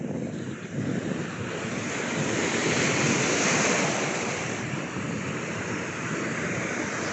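Large waves roll in at a murky beach in Tanza, Cavite, making a continuous loud roar of surf with heavy wind buffeting the microphone. The sound swells and eases gently and no one speaks.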